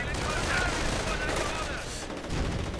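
Riflemen fire during a strategy video game battle, a dense and continuous crackle of gunfire that stays loud and busy throughout, with a voice talking over it.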